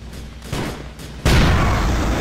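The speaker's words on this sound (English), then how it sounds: "Oh, I just blew myself up." A sudden loud explosion in GTA IV: The Lost and Damned bursts out after a couple of smaller pops and leaves a sustained roaring rumble that fills the rest of the moment.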